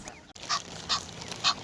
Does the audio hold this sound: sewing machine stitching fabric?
no